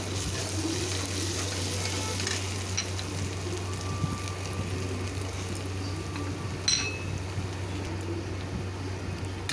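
A spice paste of garlic, Kashmiri chili and turmeric fries in a pan for a pabda fish curry, making a steady, moderately loud sizzle with an occasional faint clink of a utensil.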